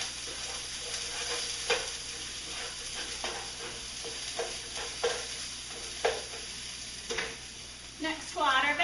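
Finely chopped onions sizzle in olive oil in a skillet over medium-high heat, a close, continuous frying hiss with intermittent stirring scrapes that swell louder at the end.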